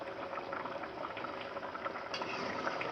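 Traditional Bengali mezbani beef curry simmering in a pot, a continuous close bubbling and popping of thick liquid with no voices.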